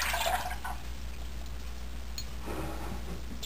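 Water trickles and splashes briefly into a pan with sugar for syrup, with a short pour at the start and another near the end over a low steady hum.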